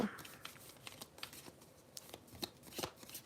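Tarot cards being shuffled close up, a run of soft irregular riffling flicks and slaps, fairly quiet and without talk.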